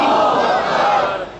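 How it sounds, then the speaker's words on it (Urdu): A large crowd at a religious gathering for a 10 Shaban celebration roars the Nara-e-Takbir slogan in unison, a loud, massed shout that swells and then fades away over a second and a half. "یک زبان کے بلند آواز دے نعرے تکبیر"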